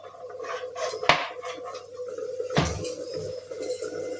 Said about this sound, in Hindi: आब दोसर चूल्हा पर एकटा पैन चढ़ौलहुँ हँ वएह वाला, ओहिमे 1 चम्मच तेल दऽ देबै